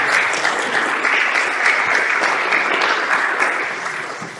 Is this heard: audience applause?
yes